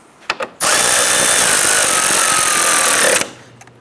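A power drill runs steadily for about two and a half seconds, snugging down plastic fasteners on the front bumper cover of a 2011-2019 Ford Explorer, preceded by a couple of short taps and handling noises.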